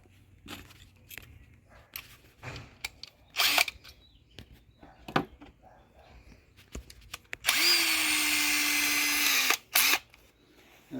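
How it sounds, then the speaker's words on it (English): A loud power drill whirs steadily for about two seconds, preceded by scattered clicks and handling noises in a quiet room. "so I'm going to drill them"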